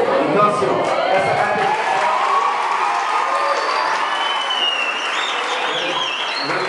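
An audience at a mayor's speech on student ID cards breaks into sustained applause mixed with scattered cheers and crowd noise, heard as a steady, fairly loud wash.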